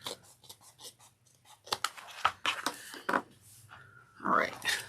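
Scissors snip through fabric beside the stitched seams of a bucket bag, a run of short crisp cuts close to the microphone, mixed with faint rustling and handling.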